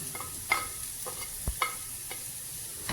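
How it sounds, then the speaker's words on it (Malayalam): Green chillies and curry leaves sizzle with onions in a pan, with a faint steady fry under several sharp spatula taps and scrapes, close and quiet with no speech. "അതും കുറച്ച് കറിവേപ്പിലും ചേർത്ത് കൊടുക്കുകയാണ്."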